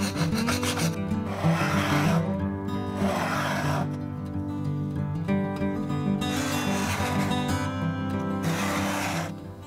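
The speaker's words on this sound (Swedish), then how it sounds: "tar jag och planar till den här kanten på spånbrytaren" Steady rasping of a file drawn back and forth over the metal edge of a chipbreaker from a 115-year-old Stanley No. 113 plane, a continuous rhythmic scraping close by with a faint hum underneath.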